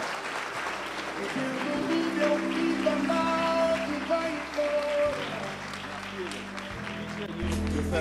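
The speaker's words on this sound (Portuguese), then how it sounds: "Vamos dar aplauso ao Senhor, meus irmãos." Congregation clapping in praise at a Brazilian evangelical service, steady applause blended with music tones and held chords underneath for the whole stretch.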